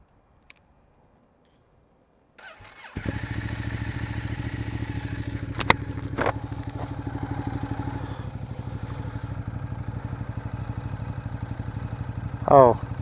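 A 2011 Ducati Diavel Carbon motorcycle starts up after a short whir and settles into a loud, throbbing idle that holds steady for several seconds, close to the listener.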